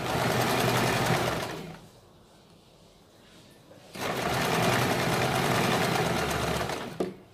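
A sewing machine stitches a kurti up close, running in two long steady bursts separated by a short pause.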